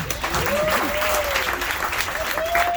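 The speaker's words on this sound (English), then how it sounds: "Give these guys another round of applause" Audience at a comedian panel aboard the Capital Jazz Super Cruise ship gives a strong, full round of applause, with voices calling out over the clapping.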